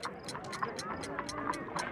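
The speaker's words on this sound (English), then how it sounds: "A fancy ticking homemade gift from a secret admirer." A homemade ticking bomb in the video game Sherlock Holmes: The Devil's Daughter gives off a steady, rapid ticking of about three or four evenly spaced clicks per second over a faint background.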